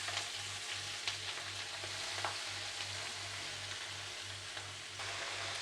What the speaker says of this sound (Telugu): ఇప్పుడైతే మనం ఆకుకూర అంతా ఇందులోకి వేసేసుకుందాం